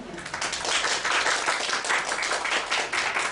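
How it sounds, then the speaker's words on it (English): An audience at an academic lecture claps steadily for Prof. Ian Coxhead, a dense, even wash of applause filling the room throughout. "Give an applause to Ian."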